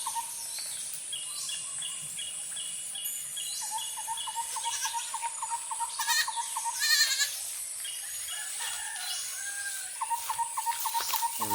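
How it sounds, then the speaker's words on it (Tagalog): Goats on a Filipino farm bleating in repeated short calls over an outdoor backdrop of rooster crows and bird chirps, with a steady high hiss throughout and no talk. "yung mga kambing ko mga kaidol."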